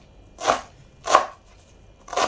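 A knife chops leafy greens (saag) on a board in three separate, evenly spaced soft thuds, close and clear in a quiet room.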